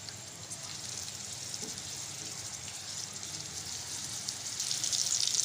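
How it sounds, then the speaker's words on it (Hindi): Beef dum kebabs fry in hot oil in a frying pan, giving a steady soft hiss and crackle that grows slightly louder toward the end, with no talking over it. "यहाँ पे ऑयल हमारा हल्का सा गर्म हो चुका है। तो अब इसके अंदर हम शामिल कर देंगे कबाब।"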